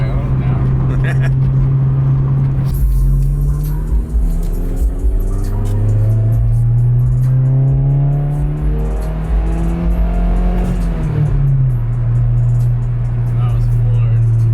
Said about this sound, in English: Couldn't even drive this thing before. This is like the nicest riding car I own now.